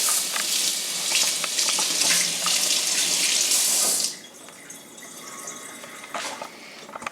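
Water runs steadily from a tap over hands being washed at a sink before baking brownies, a loud continuous splashing rush that drops suddenly to a quieter trickle with faint clatter.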